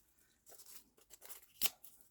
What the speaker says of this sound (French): Je vais découper, vous voyez,